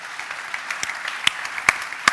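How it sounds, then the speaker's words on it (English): Sparse applause from a small crowd at a motorcycle show press launch, scattered claps at an uneven pace rather than a full ovation, moderately loud and fairly close. "Ladies and gentlemen, a round of applause, please"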